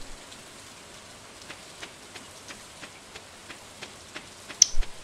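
Rain falls in the farming video game Stardew Valley as a soft, steady patter with faint scattered drops and a brief louder tick near the end. There is no talk.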